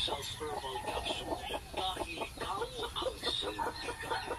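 Chickens clucking in a quick, repeated series of short calls, fairly close, over a low background hum.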